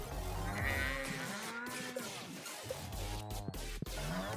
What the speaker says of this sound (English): We do have 4 cows.